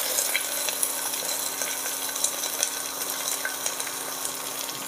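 Chopped onion frying in a pan of hot oil with curry leaves for daliya khichdi, giving a steady close sizzle and crackle with faint stirring scrapes throughout.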